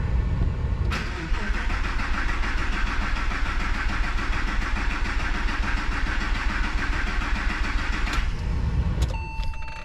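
A Porsche Boxster 986 engine cranking over on the starter after an IMS bearing replacement, a loud continuous churning drone lasting about seven seconds, then cutting off with a click and faint electronic chimes.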